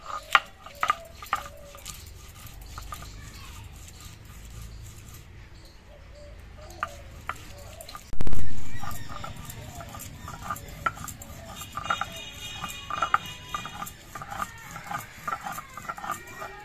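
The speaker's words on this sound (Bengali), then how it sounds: "এই কাঁচা লঙ্কাগুলো আমি একসঙ্গে বেটে নেব" Green chillies and cabbage leaves are ground together by hand, with rhythmic close scraping and light tapping strokes, one louder thump midway, and faint clucking of fowl nearby.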